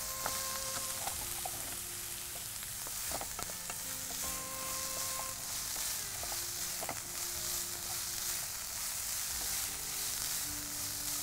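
Vegetables sautéing in a pan, a steady bright sizzle with occasional clinks of a spoon stirring, continuous and close with no talking.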